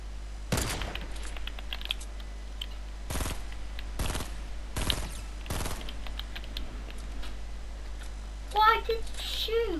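Gunfire in Fortnite, a handful of sharp, loud shots spaced a second or so apart over quiet game background, with brief electronic game sounds near the end.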